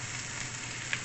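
Onion sizzles steadily in hot oil in a pan while ground pork dish is prepared, a close, continuous frying hiss with a small pop near the end.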